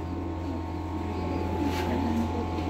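Pigeons coo at a bird market in Sialkot, low soft calls rising and falling over a constant background hum and murmur.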